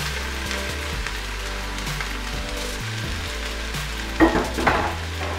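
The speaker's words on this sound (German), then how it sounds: "Mache etwas Pflanzenöl rein, sodass der Boden bedeckt ist. Ich gebe gleich meine Zwiebeln mit Knoblauch hinzu." Onions and garlic frying in vegetable oil in a pot for homemade Bolognese sauce, a steady close crackling sizzle with stirring clatter and a louder burst of spitting near the end, no voices.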